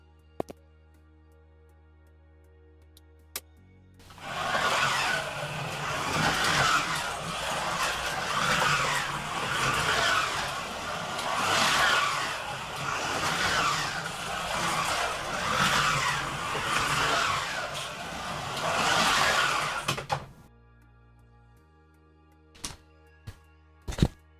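A Scalextric Volvo 850 touring slot car with its magnet removed and lightly sanded tyres runs a lap of the track, a steady whirring buzz rising and falling over about sixteen seconds, with thunks at the start and end.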